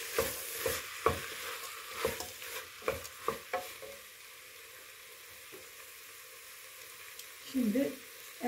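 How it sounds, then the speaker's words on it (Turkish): Washed lentils being stirred in a soup pot for a lentil and noodle vegetable soup, giving a few scraping, sloshing strokes in the first half, then near quiet with a brief clatter toward the end. "Yıkamış olduğumuz mercimeğimizi de koyduk ve güzel bir karıştırıyoruz."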